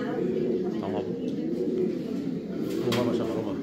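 Male pigeon cooing at a pigeon breed championship in Catalonia, repeated soft throaty coos close by amid the hum of a busy hall, with people talking over them.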